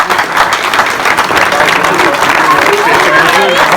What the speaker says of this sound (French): Je crois qu'on peut applaudir le parking.